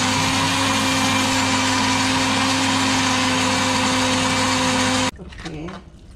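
A kitchen blender grinds ingredients with half a cup of water for clam and chive knife-cut noodle dough. A loud, steady motor roar runs for about five seconds, cuts off abruptly, and then a person speaks.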